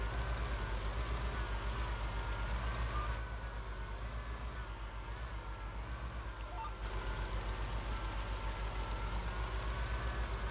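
A tractor engine idles steadily in a farming video game set in rice paddies, a constant low rumble that runs throughout the clip with little change, heard alone with no speech.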